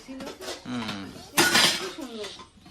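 Metal lids of newly bought cooking pots clinking and clattering as they are handled, with a louder burst of clanking near the middle, under Bengali women's chatter throughout.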